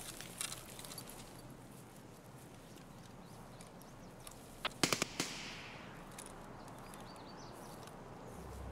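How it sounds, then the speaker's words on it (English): Distant gunfire in a combat video game, a short cluster of sharp cracks from the dorms area breaking through quiet ambient background, with a few faint isolated pops before it. "More shots at the dorms area, sounds like."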